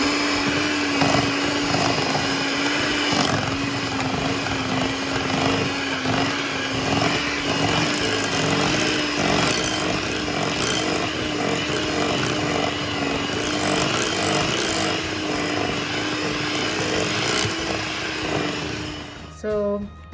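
An electric mixer whirs steadily while beating hazelnut frosting made with hazelnut essence, a loud continuous motor drone held for about twenty seconds that cuts off abruptly at the very end.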